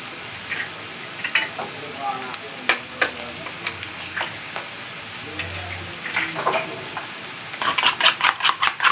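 An egg frying in a pan for chips mayai gives a close, steady sizzle with stirring, and a louder burst of crackling toward the end.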